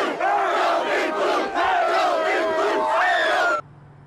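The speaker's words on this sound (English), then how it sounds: "there are still quite a few fans out here in downtown Lexington tonight celebrating the big win" A large street crowd of basketball fans in downtown Lexington celebrating a Final Four win, roaring and shouting loudly and continuously before cutting off abruptly near the end.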